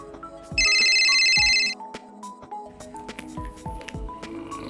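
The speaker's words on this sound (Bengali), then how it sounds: "মামা শিউলিবু ফোন করেছে ফোনটা ধরো" A phone ringtone chimes briefly and loudly, a bright electronic trill lasting about a second, amid clattering and background household noise.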